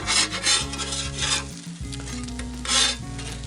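A sandwich with cheese and onions sizzles on an outdoor griddle while a spatula scrapes and rubs against the metal in several bursts, steady frying hiss underneath, close with no talk.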